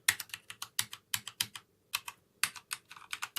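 Typing on a HyperX Alloy Elite RGB mechanical keyboard with Cherry MX Brown switches: quick bursts of sharp, close keystroke clicks in irregular clusters with short pauses, no voices.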